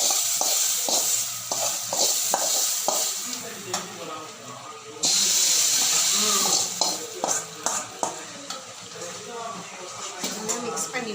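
Garlic thokku with fenugreek powder sizzles in a pan as it is stirred, a close hiss of frying broken by scraping strokes, with someone talking over it.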